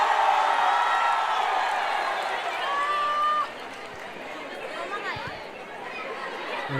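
Stadium crowd at an India versus Nepal under-19 men's football match in Arunachal Pradesh, a broad sustained roar of cheering and chatter that eases off midway, with a whistle-like tone and a commentator-style voice faintly under the noise.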